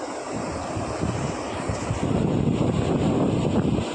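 Water pouring down over a check dam beside a roadside stream, heard as a steady, broadband rushing roar that fills the whole clip, with some wind buffeting on the microphone.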